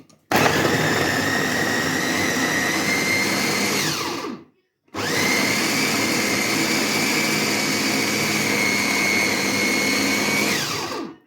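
Electric blender mincing chicken for kofta, running loud and close in two long continuous bursts separated by a brief pause, its motor whine steady with a slight drop in pitch as each burst winds down.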